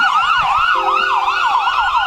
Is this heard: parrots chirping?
no